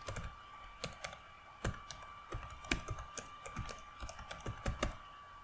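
Keys tapped on a computer keyboard, a steady run of sharp clicks at an uneven typing rhythm with a few louder strokes, close and clear over a faint background hum.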